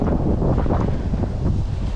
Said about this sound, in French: Bon là il y a pas mal de vent